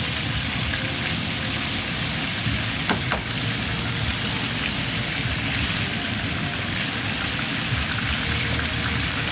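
Goat leg roast for a spicy Bengali dish frying in a pan, a steady dense sizzle that holds level throughout with a couple of brief clinks near the start, no talking.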